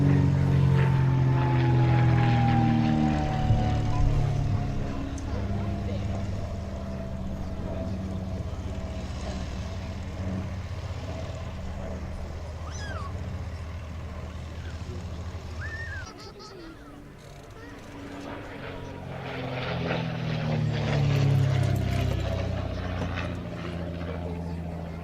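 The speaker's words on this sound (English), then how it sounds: "Enjoy DH-88 Comet." A de Havilland DH-88 Comet flies with a loud, steady propeller-engine drone that holds for the whole stretch, dipping briefly and then swelling again as the aircraft passes close by.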